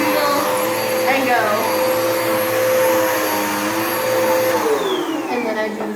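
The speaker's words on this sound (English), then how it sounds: "I help my left leg push down the button to bend over the vacuum" A vacuum cleaner runs loudly and steadily close by, its motor whine holding a constant pitch before winding down near the end.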